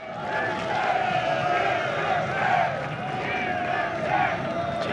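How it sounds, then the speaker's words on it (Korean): Lotte Giants baseball fans cheer and roar across a packed stadium during a late-inning rally, a steady dense crowd swell with surging peaks, with a commentator's voice faintly mixed in. "롯데 자이언츠 팬들이 환호하고 있습니다"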